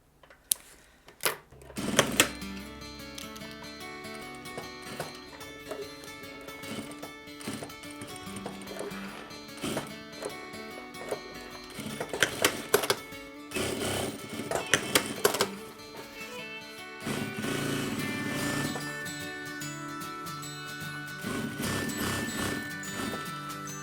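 A sewing machine stitches fabric for a costume in short and longer bursts of rapid mechanical whirring and ticking, stopping and restarting several times, close and fairly loud with small clicks and handling noises between runs.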